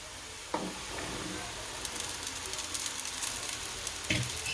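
Sabudana (sago) is tipped into a frying pan with ground peanut powder, giving a steady soft sizzle broken by a couple of faint knocks against the pan, quiet and close.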